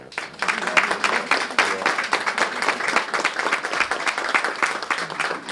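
A press-conference audience of media members applauds police officers, including a sergeant, major and captain, with dense, steady clapping that holds for several seconds at close range.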